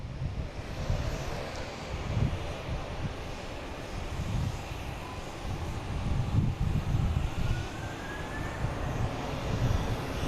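A PAL Airlines turboprop arriving from Halifax, its engine drone rumbling low and steady at a distance, swelling slightly toward the end, mixed with some wind buffeting on the microphone.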